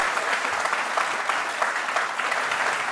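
Steady, sustained applause from a studio audience on a Tamil TV courtroom-style interview show, after a guest sings a few devotional lines; dense, even clapping throughout with a faint crowd murmur.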